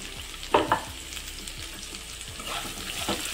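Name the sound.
chopped onions frying in a pan for curry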